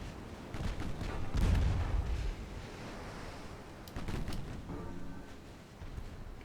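Six-inch naval guns fire in a video-game sea battle, giving heavy booming blasts with rumbling tails over a constant wash of sea and engine noise, and a second volley follows a few seconds later.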